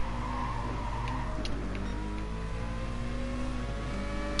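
A Mazda 787B prototype race car engine in the video game GT Sport, a steady high-pitched rotary wail with rising harmonic tones, loud and continuous throughout.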